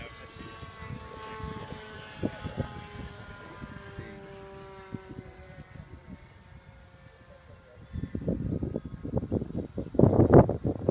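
A radio-controlled F-86 model jet comes in to land, its turbine whine sweeping in tones over wind noise, with a louder burst of rushing and rumbling as it touches down near the end.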